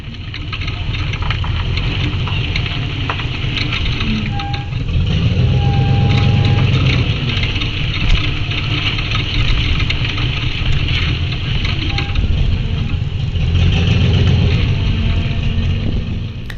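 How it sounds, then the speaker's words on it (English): A Suburban's engine rumbles steadily while it tows an Airstream under restoration, with faint squeaks from the trailer's brakes rising briefly now and then over the continuous low drone. "you hear the creaking of the brakes and of course the engine from the Suburban"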